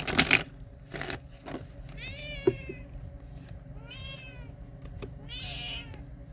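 A cat meows three times in rising, drawn-out calls spaced a couple of seconds apart, heard close by and fairly clearly over a quiet indoor background with a few soft knocks.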